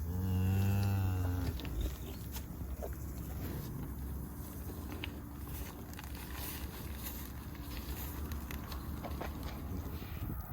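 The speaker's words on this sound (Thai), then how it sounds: "โอ้ยวัวสีดำก็มีนะคะ" Black cows moo from close by over a steady rumble of outdoor ambience in the countryside, with a long low call near the start.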